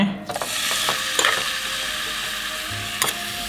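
Halal Japanese Wagyu beef frying with a little melted butter in a pan, a continuous bright sizzle with occasional utensil taps and scrapes, no voices.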